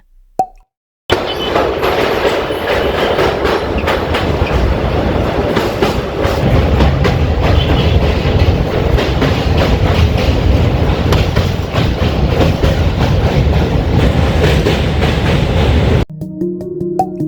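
The Kanchenjunga Express passenger train rumbles along the tracks near Dakshineswar station with rhythmic clickety-clack of wheels, loud and close, running steadily for most of the clip before cutting off.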